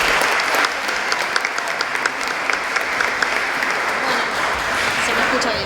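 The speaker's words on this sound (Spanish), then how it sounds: "Ahora sí, un aplauso para la doctora Bárbara Bormarco," An audience at a Latin American congress panel on childhood, adolescence and family gives sustained, dense applause for Dr. Bárbara Bormarco. The clapping is steady and even from start to finish.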